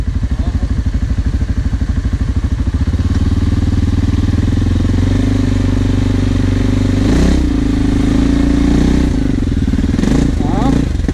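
Off-road vehicle engine at an offroad park trail, loud and close, pulsing at idle then revving harder with throttle, its steady low drone continuing through the clip while rattles and clatter break in near the end.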